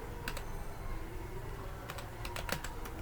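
Computer keyboard keys tapped while entering a formula in an MS Excel spreadsheet, giving a few scattered clicks early, then a quicker cluster of keystrokes near the end, close and fairly soft over a steady low background hum.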